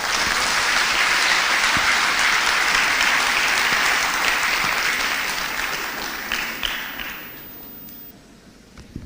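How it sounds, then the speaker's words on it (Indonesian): Sustained applause from a university lecture audience for a speaker after a national-themed lecture, dense and loud for several seconds, then thinning into scattered claps as it dies down. "Tepuk tangan yang meriah bagi Bapak Ganjar Pranowo."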